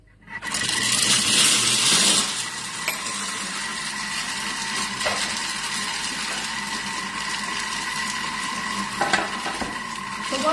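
A kitchen mixer heating and stirring brownie mixture at 60 degrees on speed 2, giving a continuous whirring motor hum with a swishing, sizzling texture and a few small clicks.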